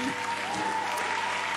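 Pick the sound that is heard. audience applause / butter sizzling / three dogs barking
audience applause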